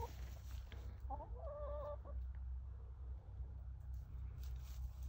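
Free-range chickens in a backyard chicken run give a short burst of clucking calls near the middle, set over a steady low outdoor hum with no talking.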